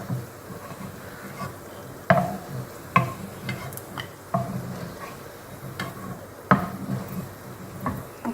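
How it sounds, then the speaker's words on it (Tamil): Ten to fifteen cashew nuts roast in ghee and oil in a pan, with a faint sizzle under irregular clicks and knocks as a spoon stirs against the metal. "இப்போ வந்து ஒரு பத்து பதினஞ்சு முந்திரி பருப்பு போட்டு வறுத்து எடுத்துக்கலாம்"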